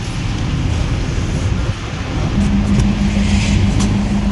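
A bus engine runs steadily under a broad hiss of wind and road noise while riding through snowy Almaty, with a low engine hum rising partway through and no talk.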